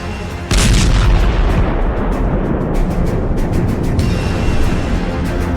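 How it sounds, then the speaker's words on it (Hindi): Explosions from strikes on Kharg Island, Iran, arrive as one sudden, very loud boom that swells into a sustained, heavy roar and rumble, with no voices. "ईरान की जान खर्ग द्वीप पर होते जरा इन धमाकों को देखिए"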